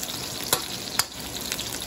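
Garlic and onion sauté in a pan for bistek, a steady broadband sizzle with a couple of sharp clicks as if stirred, loud and close with no talking.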